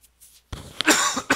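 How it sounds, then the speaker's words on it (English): A man coughing during a live stream: a faint throat sound, then a burst of two or three harsh, close coughs over about a second, with no talk. "I didn't start coughing until I went live here."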